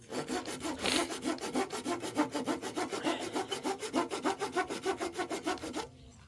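A hand saw cuts through wood in a steady back-and-forth rhythm of about two dozen quick rasping strokes, close and clear, at a house preparation site, then stops abruptly.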